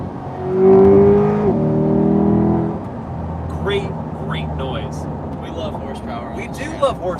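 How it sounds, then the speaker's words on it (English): The naturally aspirated engine of a 2021 Chevrolet Corvette Convertible Z51 revs up with a rising tonal whine for about two seconds, then drops away under ongoing conversation. "The whine of that car is so good."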